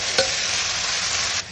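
Mutton being stirred with stock in a pan, a steady close wet sizzle and scraping stir with one brief louder clink near the start.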